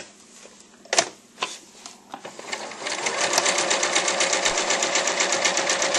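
A sewing machine runs in a steady, rapid stitching rhythm along a ribbon sewn onto a bandana apron, preceded by a few sharp clicks and handling taps, then settling into a continuous close, even whir.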